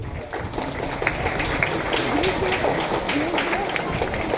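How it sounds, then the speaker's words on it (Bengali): Students clap together at a school ceremony during a gift presentation, producing a dense, steady patter of many hands that holds evenly for several seconds. "তোমরা হাততালি দিয়ে তাকে উৎসাহিত করবে।"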